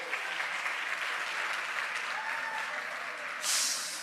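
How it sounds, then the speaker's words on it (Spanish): Audience at a church service applauding volunteers, a dense, steady round of clapping throughout with a brighter burst near the end. "Un aplauso para mis voluntarios, por favor."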